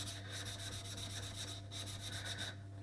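Knife blade rubbed back and forth on a sharpening stone with slurry, a gritty wet rasp in steady repeated strokes with one brief pause, quiet and close with no talk.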